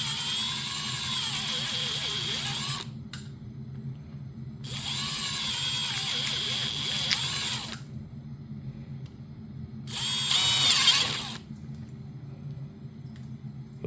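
A drill drives a ThinkWork 3/8 step bit through material in three bursts of high whining cutting with grinding undertones, separated by pauses where a lower motor hum continues.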